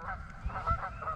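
Two Canada geese honk back and forth outdoors near water, a few short nasal calls in quick succession, moderately close with no talking.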